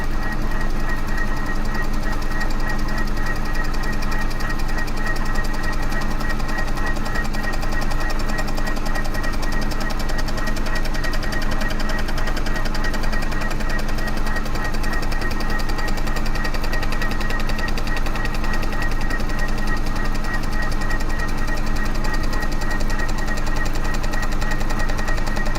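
A milling machine skims a Vauxhall Corsa cylinder head with a steady, loud, continuous mechanical drone and rapid rhythmic knocking chatter, unchanging throughout with no voices.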